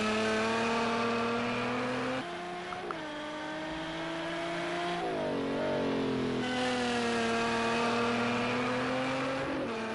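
Race cars at Monza in the racing game Project Cars 2 rev hard, engine pitch climbing through gears with sharp shifts and a brief lift, loud and continuous with no talking.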